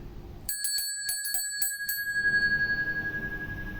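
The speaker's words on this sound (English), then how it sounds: "now we can begin with the sweet bell of with the sweet sound of the bell" A small bell rung for sound cleansing gives a quick series of bright, clear strikes, then one ringing tone that hangs and slowly fades, close and alone in a quiet room.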